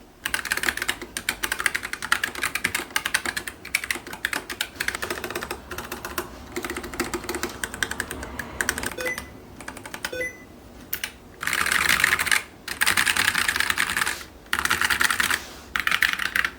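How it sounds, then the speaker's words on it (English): Rapid clicky keystrokes of a Keychron K11 mechanical keyboard with blue switches rattle on steadily at close range, with a few brief pauses and louder bursts of fast typing near the end. "Let's do a sound test"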